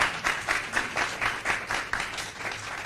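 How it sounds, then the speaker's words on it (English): Applause for a guest speaker, heard as fairly sparse clapping with a distinct rhythmic pulse of claps roughly every quarter second, moderately loud and steady for about three seconds. "Let's give him another round of applause and a great saying thank you."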